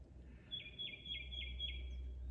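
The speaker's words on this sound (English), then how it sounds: "And I have a nice bird singing there." A bird sings outdoors on a sunny spring day in Asheville, North Carolina, a faint, thin phrase of five quick repeated descending notes heard at a distance over low background hum.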